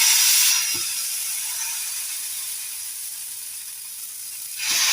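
Dosa batter sizzles and hisses on a hot stone griddle, a steady bright frying crackle that starts loud and settles to a constant simmer before swelling again at the end; no voices.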